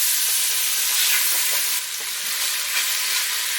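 Garlic fries with onions and bacon in a pan for coq au vin, giving a loud, even, close sizzle with a little faint stirring movement and no talk.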